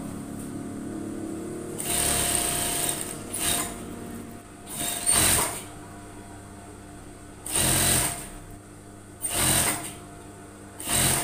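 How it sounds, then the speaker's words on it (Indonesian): A sewing machine stitches a skirt seam on an overall in several bursts of rapid whirring, each lasting a second or two, separated by quiet pauses. "Kita jahit di sini, sambungkan ya."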